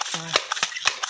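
Air pumping into a BB gun loaded with lead pellets, a few quick clicking strokes at close range, with a voice speaking between them.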